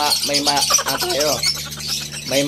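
African lovebird breeders chirp and squawk in rapid, overlapping bursts close by, while someone talks over the noisy aviary chatter.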